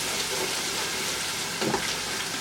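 Continuous sizzle of chicken frying in a pan for a masala curry, a steady hiss with a brief louder stir near the end, no talk.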